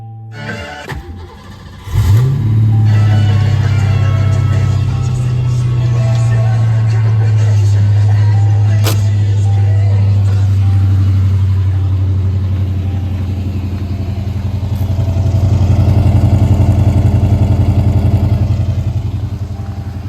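A Ford Fox-body Mustang engine cranks and starts after a fuel filter replacement, then settles into a loud, steady close idle with a slight swell in revs near the end.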